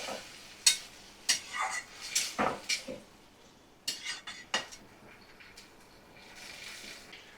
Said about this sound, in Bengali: ভালো করে 2 মিনিট কষিয়ে নিচ্ছি